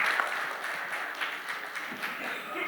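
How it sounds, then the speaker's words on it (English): An audience at an industry symposium panel discussion gives the panelists a brief round of applause, a moderate, dense patter of clapping heard from a distance for a few seconds. "we conclude our panel discussion by giving a round of applause to all the panelists"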